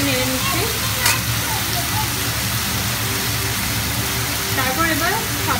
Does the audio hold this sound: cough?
no